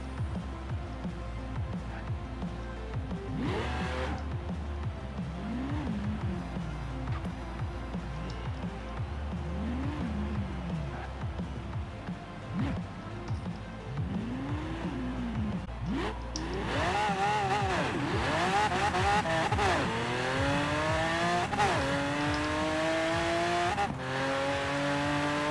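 Video game car from Forza driving with a steady engine drone, then accelerating with rising revs and gear shifts before a long stretch of loud, repeated tire squeals and skidding, with no talking.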